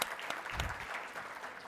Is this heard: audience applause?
yes